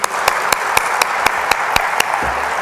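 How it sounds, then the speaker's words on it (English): Audience applause at a behavior intervention summit's opening session, with one clapper close by striking loud, evenly spaced claps over the softer wash of the crowd. "Can we give her another round of applause"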